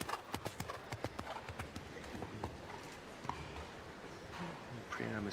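Hooves of a large show-jumping horse clip-clop across the arena at a 1.50m World Cup jumping class, a fast run of hoofbeats in the first half then thinning out, with faint background noise and a little talk.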